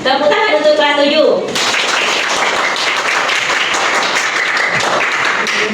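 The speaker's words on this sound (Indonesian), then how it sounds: "Tepuk tangan untuk kelas 7." A class of seventh-grade students claps together in a classroom, a dense, steady burst of applause lasting several seconds that follows a teacher's short spoken line.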